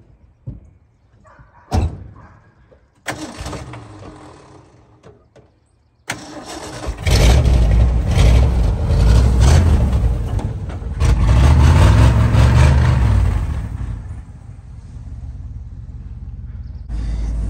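A pickup truck door thuds before the engine cranks and catches, settling into a loud, rumbling idle on a snowy property, heard up close and alone.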